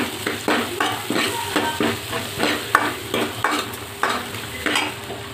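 Onions and spices sautéing in a pan for a vilai fish curry, with rhythmic stirring scrapes and clinks of a utensil over a steady close sizzle, no voices.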